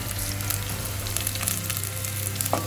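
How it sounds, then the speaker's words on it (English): Garlic paste, onion and green chilli fry in a pan for a spicy egg gravy, a steady close sizzle with crackling throughout and a brief clink near the end. "Add all the ingredients one by one. Garlic paste, onion, green chilli and the curry"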